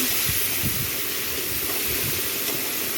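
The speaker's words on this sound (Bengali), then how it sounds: "তো পেঁয়াজগুলো ভাজা হয়ে গেছে" Onions fry in a pan with a steady, dense sizzling hiss that holds evenly throughout, close and loud with no voices.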